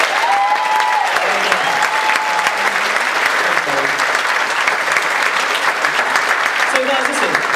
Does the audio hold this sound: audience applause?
yes